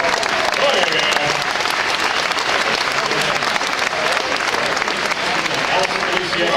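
Sustained audience applause at a Disney stunt show in Florida, a dense, steady wash of clapping from a large crowd filling the whole stretch, with faint voices mixed in.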